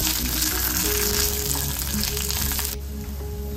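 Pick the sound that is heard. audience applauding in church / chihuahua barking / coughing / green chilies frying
green chilies frying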